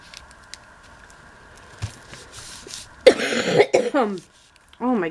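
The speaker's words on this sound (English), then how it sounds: "my coughing is a little ridiculous at the moment" After a quiet stretch with faint background hum, a person coughs several times in quick, harsh bursts, close up, then clears their throat.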